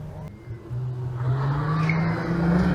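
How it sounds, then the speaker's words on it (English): A rorty old Ford Fiesta XR2 at the Retro Rides Weekender at Goodwood Motor Circuit gives a low, steady engine drone that grows slightly louder as it rolls past at moderate distance, with faint crowd noise behind. "That sounds rorty in a proper old Ford style-y."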